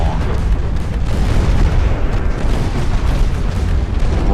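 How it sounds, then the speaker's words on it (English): Heavy battleship broadside gunfire slams into a heavy cruiser during an 1890-era naval battle in Ultimate Admiral: Dreadnoughts, a dense, continuous rumble of booming cannon blasts and explosions, loud and unbroken throughout. "Broadsided by a battleship at the same time."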